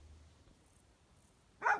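A dog near an abandoned house gives one short bark at the very end, after a quiet, empty outdoor stretch.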